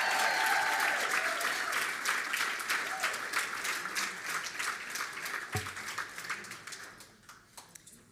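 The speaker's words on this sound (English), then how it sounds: "Give her another round of applause." Audience applause at a spring celebration event, sustained clapping from a crowd that stays dense and loud before thinning into scattered claps near the end, with a few faint voices underneath.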